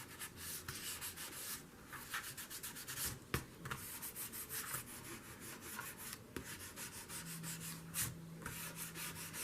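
Paper is rubbed in steady repeated strokes to lift excess Fabri-Tac glue from a doctor's office brochure page in a junk journal, a dry scratchy friction sound that continues close and alone throughout.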